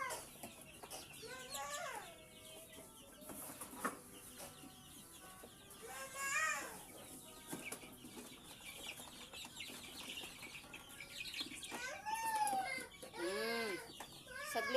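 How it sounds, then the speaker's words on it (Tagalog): Chicks peep in a faint, thin series of high chirps, scattered in bursts across a quiet farmyard backdrop, with occasional hen clucks and low voices nearby. "Sisiw."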